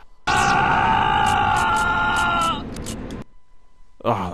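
A drawn-out, strained scream from the video game Star Wars Jedi Outcast rings loud and close for a couple of seconds, then breaks off into fainter sounds and a short sharp noise.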